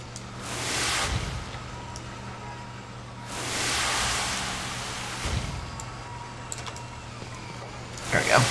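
A water spell cast in the video game Magicka, heard as broad rushing spray bursts that swell and fade twice, with softer clicks of game effects between them.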